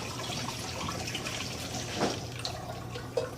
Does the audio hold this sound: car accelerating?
no